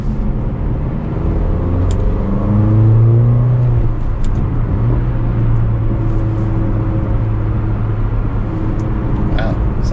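Mercedes-Benz GLA 45 AMG with a dual-clutch transmission driving on the road, steady engine drone with a rise in revs as it pulls away, low rumble continuing throughout.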